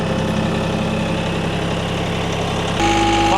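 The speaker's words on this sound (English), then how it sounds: "I'm going to fire up the tractor, engage the PTO," A tractor engine drives the PTO on a Japa 365 Basic firewood processor at Wolfe Ridge. It idles with a steady low rumble, then near the end the pitch shifts and a tonal whine rises as the load changes. No one speaks.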